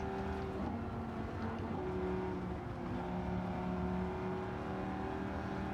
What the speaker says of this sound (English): Low RPM, thud of the engine there. The big V10, is it V8, is absolutely thrashing away under the bonnet.